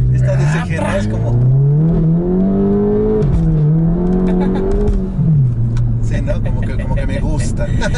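A turbocharged Stage 3 GTI engine with aftermarket exhaust piping revs up and holds a high, rising whine, then drops back to a rough idle as people talk over it.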